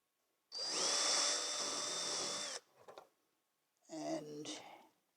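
A power drill bores out solid rivets to full size in one long, steady whining burst. After a short pause comes a second, shorter burst, both close and loud against an otherwise quiet background.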